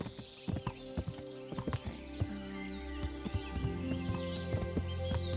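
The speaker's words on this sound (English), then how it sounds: "I guess we're gonna need to do some off-road horseback riding here." Horse hooves clip-clop at a steady riding pace in the video game Kingdom Come: Deliverance, with a brief whinny and game-like ambient tones underneath; no talking.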